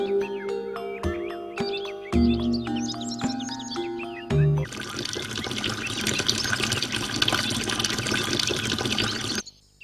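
Cartoon effect of oil being poured out, beginning with short tonal plinks and squeaks, then giving way to a steady loud gurgling pour that runs several seconds and stops abruptly, with no speech over it.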